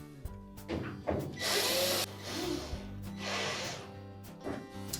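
A power screwdriver drives three screws to fasten the back panel of a GE washer, with short whirring bursts separated by pauses and faint handling clatter, close and moderately loud.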